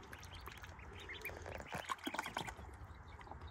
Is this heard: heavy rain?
no